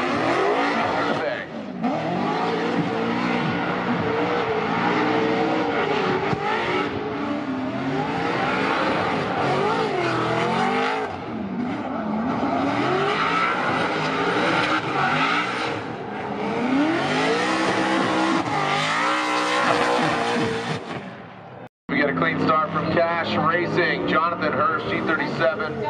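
A Toyota Mark IV Supra drift car with GT Radial tires at a Formula Drift Orlando top 32 competition revs hard and screeches its tires in a loud, sustained run, engine pitch rising and falling before a brief cut, while commentators talk over it.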